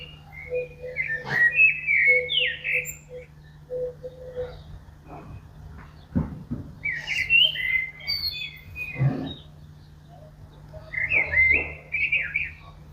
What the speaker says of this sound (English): Plus, you can hear birds.